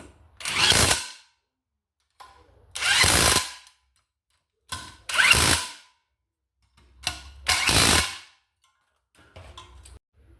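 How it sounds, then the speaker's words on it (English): An AEG rattle gun with a 17mm socket drives the blade bolts on a Honda HRU196 mower, five loud bursts of rapid hammering impact, each about a second long, separated by short quiet gaps. "So we're going to use our AEG rattle gun with our 17mm socket."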